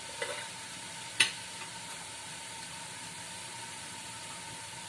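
Fenugreek leaves cooking in a pan for a Malvani-style bhaji, a sharp scrape of stirring near the start over a steady, faint sizzle that continues alone.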